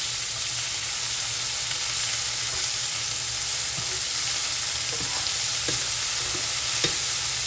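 Scallops and bacon searing in a hot pan, a loud continuous sizzle with faint scattered crackles and a few soft utensil taps near the end.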